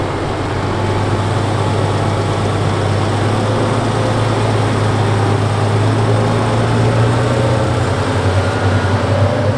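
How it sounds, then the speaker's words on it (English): The MAN engine of a Fendt 942 tractor pulling a leveling machine across a field, a loud, close, steady low-pitched drone with a constant hum that holds for the whole stretch. "The sound coming from its MAN engine is a pleasure to the ear of any machinery enthusiast when it pulls"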